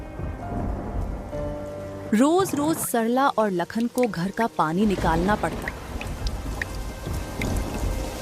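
Heavy rain falls steadily during a cold-weather storm, a loud continuous hiss under a narrator's voice speaking Hindi through the middle of the stretch.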